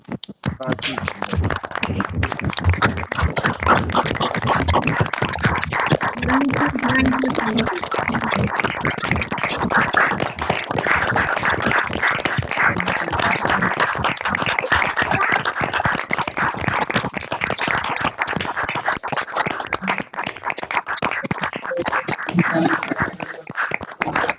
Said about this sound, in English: we have this customary applause for our speaker